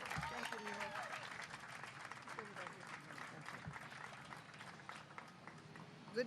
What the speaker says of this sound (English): let's give a round of applause to Grace Napolitano, representative from the San Gabriel Valley